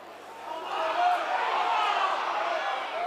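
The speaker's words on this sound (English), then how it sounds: "Again, the crowd restless. They wanted a penalty as Gadwin Springer goes in for a big shot." Rugby league crowd at a Widnes Vikings match, a broad restless murmur and grumbling from a large stadium audience that swells after the first half-second and holds steady with no clear talk.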